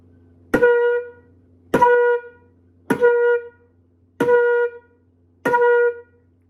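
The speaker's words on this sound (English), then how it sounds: "On the flute, it should sound like this." Five separate tongued flute notes on one pitch, each with a crisp attack, evenly spaced about a second apart, played alone.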